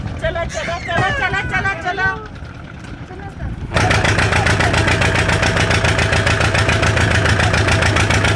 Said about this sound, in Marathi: आता आपली बोट निघालेली आहे अर्नाळा किल्ल्याच्या दिशेने